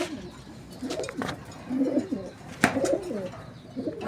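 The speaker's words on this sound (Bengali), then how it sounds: "যে পাশে আমরা কিছু নতুন কবুতর আনছি" Large pigeons coo in soft, throaty bursts close by, several calls overlapping with a few faint chirps in a loft.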